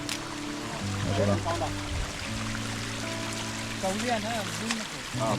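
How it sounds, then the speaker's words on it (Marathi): Rainwater rushes and flows continuously down in a Konkan forest in the background while people talk over it. "पाणी बघा किती आलं वरून"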